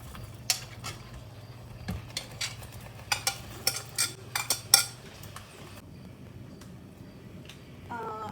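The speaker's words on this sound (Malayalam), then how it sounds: "അതിനുശേഷം നന്നായിട്ടൊന്ന് ഇളക്കുക." Chicken tikka masala with fried chicken pieces being stirred in a pan over medium flame: a run of clinks and scrapes of a utensil against the pan, irregular and fairly close, with a low hum beneath and a quieter stretch toward the end.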